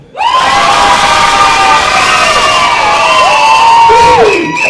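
A loud talent show audience cheers, whoops and shouts continuously, with high-pitched screams rising above the roar, sustained for several seconds before tapering off.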